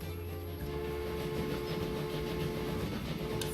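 A train rolling along in the Transport Fever video game, a steady rumbling clatter with a constant mechanical hum, moderately quiet and continuous throughout.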